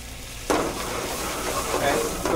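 Octopus braising jus cooks down in a pan, a constant sizzling bubble that surges after a sudden stir or pour, with faint voice underneath.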